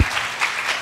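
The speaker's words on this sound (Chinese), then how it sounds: "就请用掌声鼓励欢迎这个刘雨婷先帮我们做一个演讲" A conference audience at COSCUP 2015 claps to welcome a speaker, a brief burst of steady applause from a room full of people.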